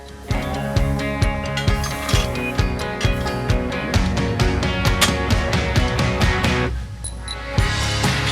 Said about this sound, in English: Install your new flange head nylock nuts and tighten.